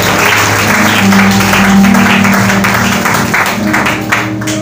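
A church congregation applauds and cheers at length, a loud, dense wash of clapping from a large crowd, with voices mixed in throughout.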